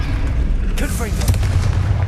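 Confringo fire spell blasting in the Hogwarts Legacy video game, a sudden burst of explosive impacts with a booming, gunfire-like crack over steady low game rumble, heard up close.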